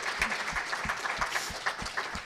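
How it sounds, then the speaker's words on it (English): A round of applause for a Coast Guard crew at a community meeting, fairly quiet and somewhat sparse, with a few distinct claps standing out in an uneven rhythm. "let's give a round of applause to the Coast Guard crew"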